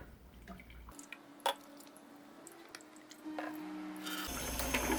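Hot water runs from a tap for handwashing with soap, a steady hiss with small splashes and drips that grows louder toward the end.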